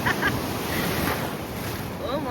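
Ocean waves break and wash on a beach with steady rushing surf and some wind noise on the microphone, close and continuous.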